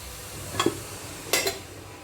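Chicken curry frying in a pan, Assamese style: a low sizzle under two brief clinks and scrapes of a spoon stirring against the metal, close and quiet.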